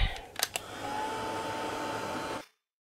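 A hair dryer blows a steady, close, airy whoosh over a wet mixed-media craft tag, starting after a couple of handling clicks, then cuts off sharply into silence.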